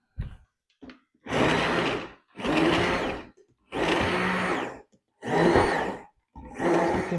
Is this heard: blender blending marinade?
yes